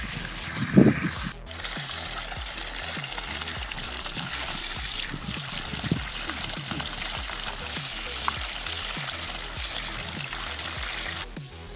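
Gentle water flowing from a soft flow hose nozzle onto the ground around an avocado tree, a steady soft hiss and patter with a few small clicks and knocks, fairly close.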